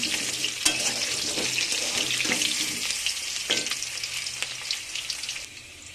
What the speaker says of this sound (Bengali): লাল করে ভাজা হয়ে গেছে, এবার আমি আলুগুলো তুলে নেব এক এক করে। আর একটু সামান্য ভাজা হোক